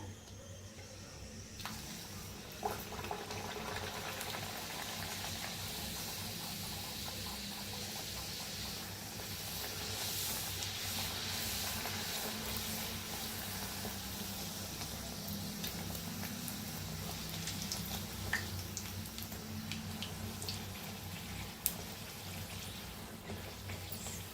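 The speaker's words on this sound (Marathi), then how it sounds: "तर तेल चांगलं तापलंय, आपण पुऱ्या तळून घेऊया." Puris frying in hot oil give off a quiet, continuous sizzling hiss that holds evenly for a long stretch, with a couple of faint knocks from the kitchen.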